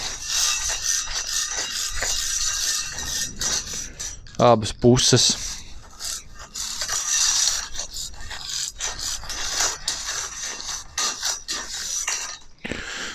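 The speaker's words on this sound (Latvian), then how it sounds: "No sākam ar to, kad notīram zāģlentu, notīram no skaidām." Wood shavings are scraped and brushed off a band saw blade, producing repeated rasping, rubbing strokes over a noisy workshop background, with brief speech.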